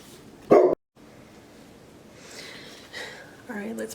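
A pet dog indoors gives a single sharp, loud bark near the start, followed by a quiet room and faint talking.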